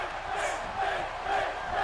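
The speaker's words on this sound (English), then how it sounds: "Crowd are really chanting Finn's name." Video game arena crowd in WWE 2K18 chanting a wrestler's name during a championship match, a steady roar of massed voices with rhythmic swells, loud and continuous throughout.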